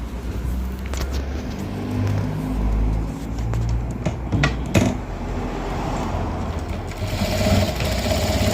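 A sewing machine stitches the ends of elastic together with a close, steady mechanical whir and rapid needle chatter running throughout, briefly easing and picking up again.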